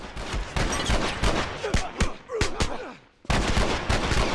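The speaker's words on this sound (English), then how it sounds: "You shot him in the head!" Gunshots in The Last of Us come as a series of sharp cracks, several close together, then a short lull before firing resumes; speech is faint or absent.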